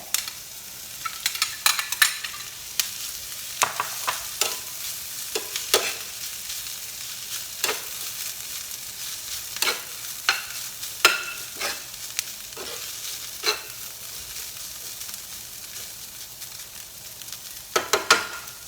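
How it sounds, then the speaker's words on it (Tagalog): Chicken sautéing in a pan with garlic and onions, a steady sizzle broken by frequent clattering stirs and scrapes of a utensil, close and fairly loud, with no talking. "pwede na siya ibutang ang imuhang chicken Sote lang"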